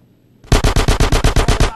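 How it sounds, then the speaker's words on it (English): A short, loud burst of about nine rapid automatic gunshots rings out as suppressing fire in the video game GTA San Andreas, evenly spaced and close. "Get some suppressing fire in there."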